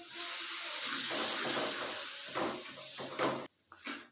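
The rest of the milk goes into hot roasted besan for halwa and it sizzles and hisses. A loud broad steam hiss runs for about three seconds, then softer bubbling and a few stirring clatters follow.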